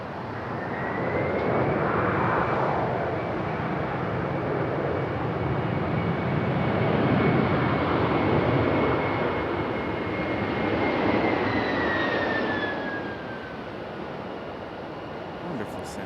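A Boeing 767 airliner arrives at Raleigh-Durham International, its engines a broad loud roar with a rising whine that swells and then fades as it rolls out, heard from a distance outdoors.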